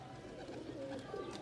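Pigeons coo softly in low rolling calls through a short stretch of outdoor ambience, set in pigeon-catching country near Sialkot.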